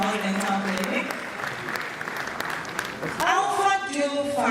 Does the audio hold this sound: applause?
yes